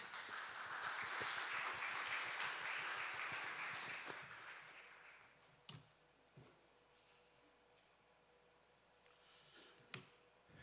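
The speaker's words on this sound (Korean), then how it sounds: "여러분 큰 박수로 맞이해 주시기 바랍니다." A forum audience claps to welcome a guest speaker at an architecture biennale event, a dense burst of applause lasting about five seconds, then fading to scattered faint sounds.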